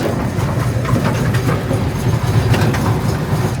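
Steady rumble and rattle of a moving train ridden at a museum railway as it picks up speed, close and continuous, with faint clicking of the wheels and no talk.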